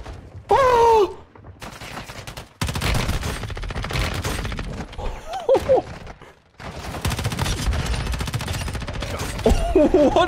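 Submachine gun fire from dual SMGs in Warzone Mobile, loud rapid bursts in several long stretches separated by short gaps, with sharp electronic hit-marker chirps mixed in and no talking.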